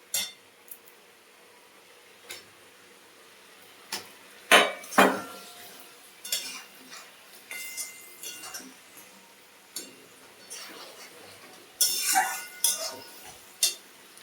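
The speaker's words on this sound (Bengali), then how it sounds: "এখন আমি মাছগুলো অ্যাড করে দেব।" Fish pieces for doi katla are added to a pan with ghee, producing scattered clinks and clatters of utensils against the pan, with brief sizzling bursts, close and intermittent, no talking.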